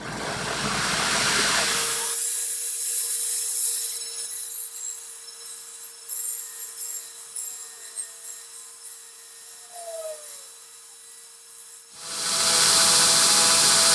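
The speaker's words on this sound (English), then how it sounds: "we're going to go ahead and shape these 2 pieces on the belt grinder real quick." A belt grinder shaping metal pieces, including square tube, roars with loud, hissing abrasive noise in two bursts at the start and end, separated by a long near-silent gap with a faint steady hum.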